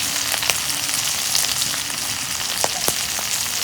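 Sliced onions and green chilies fry in hot oil with a loud, continuous close sizzle, with a few sharp crackles and pops scattered throughout; no one speaks.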